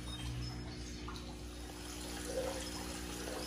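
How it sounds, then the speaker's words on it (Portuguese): Water pours and splashes steadily as it fills a carp pond's ceramic filter, a continuous soft trickling wash at moderate distance with no voices. "agora é só ligar e esperar a água subir"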